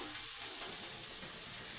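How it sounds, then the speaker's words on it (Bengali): Chopped onions fry in a pan for a pangas fish oil curry, making a faint, even hiss of sizzling oil that runs unbroken throughout. "পেঁয়াজটা আমি লাল লাল করে ভেজে নেবো একদম"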